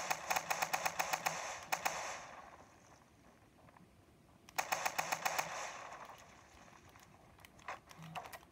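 Rapid bursts of automatic gunfire in the video game Fortnite, two dense volleys of quick repeated shots with a quieter gap between them and a few scattered single shots near the end.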